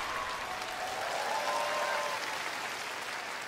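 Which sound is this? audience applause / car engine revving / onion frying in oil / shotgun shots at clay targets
audience applause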